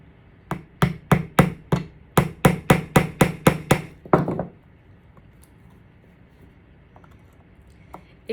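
A hammer drives nails into a wooden board for a sunflower string art piece, about a dozen sharp, evenly spaced knocks close by in quick succession, then a long quiet stretch with a few faint taps.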